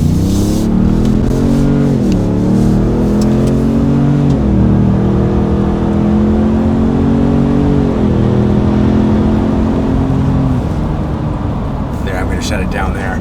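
A 2021-or-later Ford F-150 with an MBRP 3-inch single-side-exit cat-back exhaust revs up, a deep, steady rumble rising and falling in pitch with each push of the throttle, loud and close.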